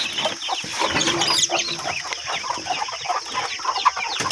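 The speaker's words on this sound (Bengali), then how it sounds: "আমার একটা মুরগি এক তেরোটা বাচ্চা হয়েছে" A desi hen with her three-day-old chicks clucks steadily up close, the chicks giving soft, high peeping chirps throughout the enclosure.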